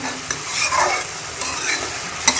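Masala sautéing in a pan for egg curry, loud continuous sizzle with scraping stirs of a spoon against the pan, close and alone without talk.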